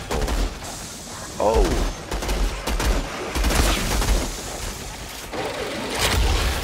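Rapid bursts of gunfire from a powerful gun in the shooter game Outriders, loud and close, with a heavy low thump under each shot, broken by short pauses while someone talks over it.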